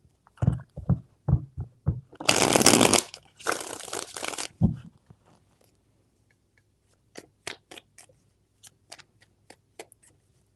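Rapid riffling of a deck of cards in a couple of bursts, with taps and thumps before and after, close up and without talk.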